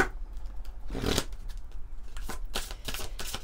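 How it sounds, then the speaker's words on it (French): Oracle cards from The Venice Witch deck shuffled by hand, a close run of soft riffling bursts and flicks at an uneven rhythm, heard on their own. "on va prendre une carte de l'oracle The Venice Witch"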